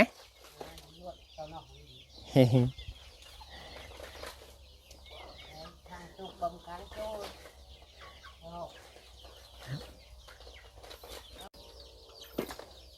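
Chickens in a backyard coop at evening give scattered soft clucks and calls, with one sharp louder squawk and brief wing flaps, while someone talks quietly nearby.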